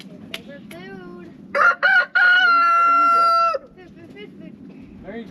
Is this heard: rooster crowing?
yes